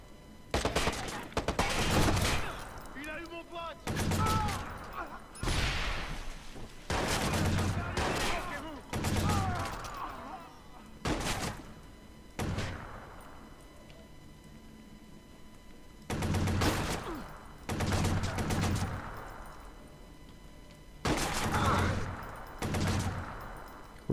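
Repeated bursts of gunfire in the game Watch Dogs ring out in loud clusters separated by short quieter gaps, with a voice heard faintly between the volleys.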